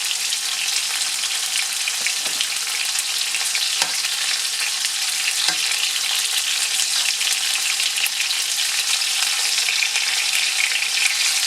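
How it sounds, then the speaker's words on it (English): Beef browns in small batches in an uncrowded frying pan, giving a loud, steady sizzle with a few soft clicks of stirring and no talk. "Try not to crowd the frying pan or the wok. Let's brown the meat"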